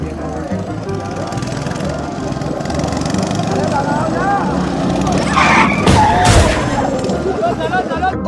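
Go-karts at a go-kart track drone and buzz in a steady engine roar, with a louder burst of rattling as karts pass close, under a speaking voice.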